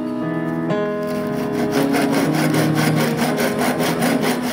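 Rapid back-and-forth sawing through a wooden circle for a clock wheel, a rhythmic rasping that starts after a brief tonal hum and continues steadily up close.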